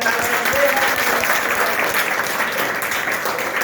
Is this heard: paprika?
no